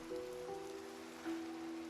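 Steady rain falls in the blocky survival game Minecraft, a soft continuous hiss at low level with a faint tonal hum running beneath it and a slight swell near the end.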